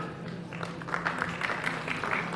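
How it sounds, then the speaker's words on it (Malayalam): Applause from an audience at a film audio launch event, a steady wash of many hands clapping in a large hall that holds moderately loud for the whole stretch. "He deserves a bigger round of applause."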